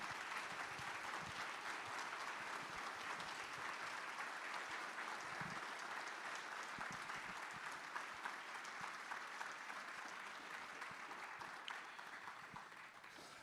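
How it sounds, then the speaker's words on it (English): An audience at a church synod assembly in Nebraska claps in sustained, dense applause that stays loud and even from start to finish, then tapers slightly toward the end. "Another round of applause, please."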